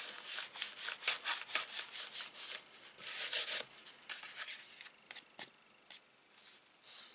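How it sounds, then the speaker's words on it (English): Repeated dry rubbing strokes on a Stampin' Up! laser cut card worked from the inside, quick close scratchy swishes in a steady rhythm that slow into scattered soft touches and brief handling noises. "Give it a quick rub from the inside."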